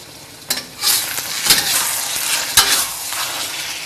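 Loud, close sizzling and bubbling of sauce boiling in a hot wok, with clinks and scraping of a utensil stirring at a few points.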